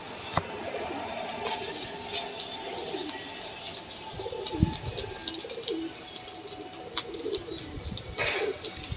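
Racing pigeons coo in a loft at midday, a steady low throaty murmur from several birds with occasional chirps and scuffles, continuing for several seconds.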